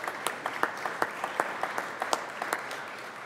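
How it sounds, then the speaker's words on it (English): Guests being welcomed on the Colorado Senate floor receive polite applause, a thin patter of distinct, fairly quiet claps from a small number of people. "If you could give them a round of applause from SCFD."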